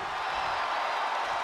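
A WWE 2K22 wrestling arena crowd roars in a dense, steady wash of cheering and noise, continuous and fairly loud across a short stretch with no distinct voices standing out.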